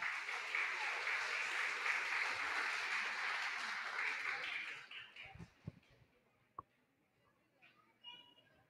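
A crowd at a Teachers' Day school program in Ecuador gives strong applause, sustained for several seconds before fading out into a few isolated claps and knocks.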